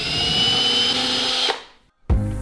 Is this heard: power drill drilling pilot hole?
yes